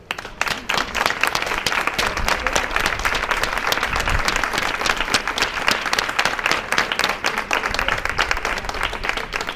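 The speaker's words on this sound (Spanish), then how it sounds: "a ella pues le queremos dedicar este fuerte aplauso" A crowd at a breast cancer awareness day manifesto reading in Abarán breaks into strong, sustained applause, a thick, even roar of many hands clapping that continues at full level throughout.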